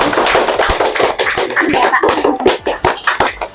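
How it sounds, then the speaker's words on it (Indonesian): An audience at a school alumni achievement event claps, a dense, steady patter of hands that stays loud and close throughout with little else beneath it. "Oh, tepuk tangan dong."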